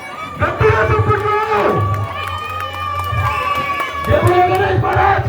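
A festival crowd at a Ganesh immersion procession shouts and cheers loudly, with voices swelling in bursts close by and excited calls rising over the noise.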